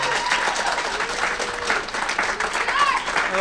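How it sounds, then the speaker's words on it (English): An audience at a debate applauds its panelists, a dense, sustained wash of clapping that fills the room for several seconds, with scattered voices and a whoop rising above it. "let's give a round of applause for our panelists"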